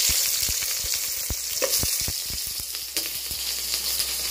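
Green chillies and onions frying in hot oil, a steady broadband sizzle with sharp crackles and pops scattered throughout, close and loud, with no voices.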